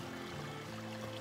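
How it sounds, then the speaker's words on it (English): Brook running along the Appalachian Trail in Virginia, near the James River, gives a steady, close wash of flowing water with no pauses and no voices over it. "I finally made it to the brook and it's flowing."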